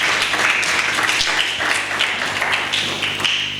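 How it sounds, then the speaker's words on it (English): A church congregation claps together during a sermon, a dense, steady patter of hands filling the room at even loudness throughout. "Shall we clap our hands?"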